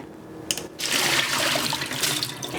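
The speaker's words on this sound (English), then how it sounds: "Give it a good rinse." Running water splashes steadily over something being rinsed in a kitchen, a broad continuous wash that starts after a brief pause and carries on without talk.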